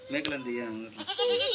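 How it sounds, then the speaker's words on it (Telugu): Goats on an Adilabad farm bleat several times in quick succession, close and clear, with wavering cries and a voice mixed in among them. "కానీ మేకలు మాత్రం వస్తున్నాయి"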